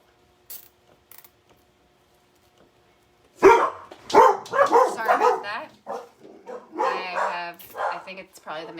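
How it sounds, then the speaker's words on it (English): Dogs at a house door break into loud, repeated barking after a few faint mechanical clicks, a rapid run of sharp barks continuing for several seconds, mixed with a person talking. "the dogs lose their mind when they come to the door"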